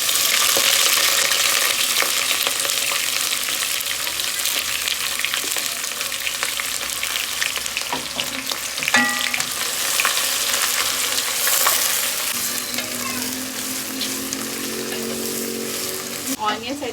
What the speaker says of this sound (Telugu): ఆనియన్స్ అయితే వేసేసాను అనమాట.